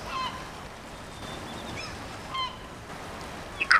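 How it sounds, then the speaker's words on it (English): Seagulls call beside the Kenai River in Alaska, a few faint, distant cries spread over steady outdoor wind and water noise, with one closer squawk at the end. "so that you can see all of the seagulls here"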